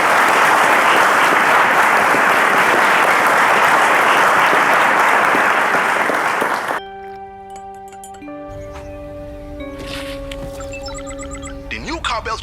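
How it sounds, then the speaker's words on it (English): A studio audience claps and cheers in a loud, dense, sustained burst of applause for about six seconds, then it cuts to quiet ticking and chiming musical tones. "a round of applause for that"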